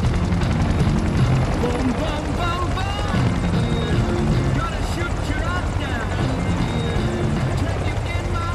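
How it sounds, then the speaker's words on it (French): An AgustaWestland AW101 helicopter's rotor and engine drone loudly and continuously, with voices talking over the heavy steady noise. "Cet hélicoptère c'est le EH-101 ou AW-101"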